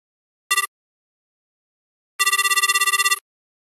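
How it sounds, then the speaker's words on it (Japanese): An office telephone line rings when the number is dialed: one short trill, a pause, then a longer electronic warble of rapid pulses, clear and alone in silence. "ここは、〇〇会の事務所に直接電話を入れて"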